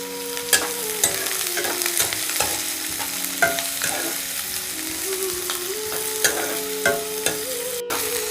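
Onions frying in oil with mustard seeds, urad dal and curry leaves, a steady sizzle with regular scraping stirs and small clicks of a spoon against the pan.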